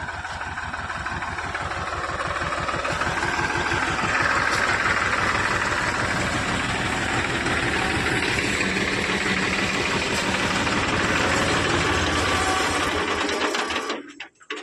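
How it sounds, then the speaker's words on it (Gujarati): A tractor engine idles steadily, close and loud, a dense low rumble with rhythmic pulsing that holds even for most of the stretch before cutting off abruptly near the end. "ટ્રેક્ટર ચાલુ મૂકીને તમે ખાતર ઉપાડવા જાઓ"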